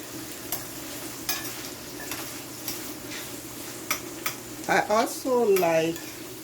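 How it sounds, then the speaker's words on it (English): Garlic frying in a pan for Jamaican-style saltfish, a quiet low sizzle with sparse light ticks, then a louder burst of clatter and a short voice near the end. "Also my garlic. And allow it to fry."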